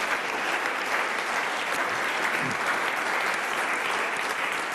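Audience applause after a TV segment about a South Tyrolean feature film, a dense steady clapping that fills the room at an even level from start to finish with no voices over it.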